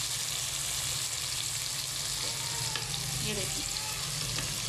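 Green chillies for aloo egg curry sizzle and fry in hot oil in a pan, a steady loud hiss with light stirring, while a voice speaks briefly over it.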